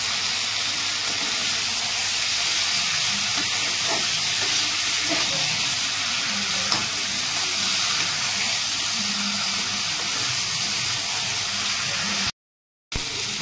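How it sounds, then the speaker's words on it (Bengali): Meat and potatoes sautéed in a pan, a steady, moderate sizzling hiss with occasional soft stirring scrapes that runs on evenly and cuts off abruptly near the end. "এবার আমি আলুটার সঙ্গে মাংসটা দিয়ে একটু কষে নিয়ে তারপর জল দেবো।"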